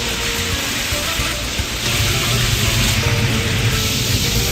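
Rabbit pieces fry in hot olive oil in a wide paella pan over a high flame, a steady, dense sizzle that stays loud and even throughout with no pauses.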